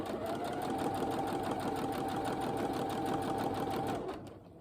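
Sewing machine stitching trouser fabric, a steady fast mechanical whir of needle strikes running continuously for about four seconds before winding down, close and alone.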